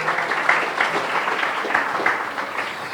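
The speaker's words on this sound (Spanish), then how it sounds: "Dale un aplauso fuerte a Dios" Church congregation gives a loud round of applause, a steady wash of clapping with faint rhythmic pulses running evenly through the moment.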